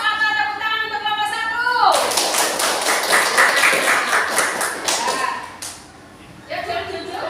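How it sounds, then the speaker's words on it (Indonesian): Classroom applause for a student group: a teacher's voice, then a few seconds of dense, steady hand clapping from many students before it fades and talking resumes. "kita beri aplaus atau tepuk tangan untuk kelompok"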